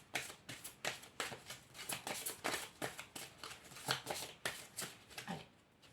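Tarot cards are shuffled by hand for a reading, a quiet close riffling in rapid rhythmic bursts that repeat over several seconds.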